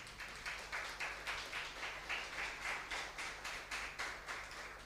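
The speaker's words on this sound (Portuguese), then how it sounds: "Você pode glorificar Deus agora com a salva de palmas?" Church congregation clapping together in a steady, rhythmic beat, around two claps per second, moderately distant and fairly faint, with no talking over it.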